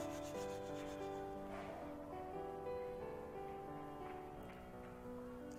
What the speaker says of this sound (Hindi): इसके ऊपर हमें रेगमाल लगाना है, 80 नंबर या 60 नंबर का पट्टे वाला रेगमाल, जिससे कि लकड़ी बराबर हो जाए पूरी